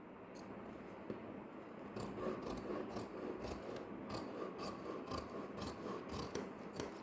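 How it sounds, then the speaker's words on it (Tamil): Scissors cut through canvas cloth in a series of close, quiet rasping snips that repeat in an uneven rhythm. "இப்போ நான் கட் பண்ணுறேன்"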